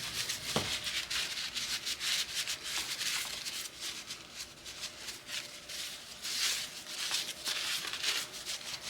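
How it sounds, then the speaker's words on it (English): Napkins scraping and rubbing black paint off stairs, a quiet continuous rough scrubbing in uneven strokes, close and alone. "I'm gonna scrape some of this off because I do not want it to be permanent"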